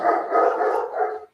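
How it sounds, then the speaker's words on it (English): Dogs bark outdoors in a short, dense burst of overlapping yelping barks. It is fairly loud and lasts just over a second. "Dogs are barking at something."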